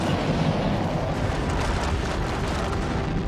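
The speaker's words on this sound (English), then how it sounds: "the noise of the Saturn V is the loudest man-made sound on Earth" A Saturn V rocket lifting off at launch produces a deep, continuous, overwhelming roar with rumbling crackle, loud and unbroken throughout with no voices.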